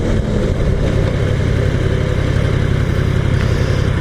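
A 2015 Yamaha R1M motorcycle engine runs steadily and close by with a low, even rumble, held at a constant pitch for the whole stretch with no talking.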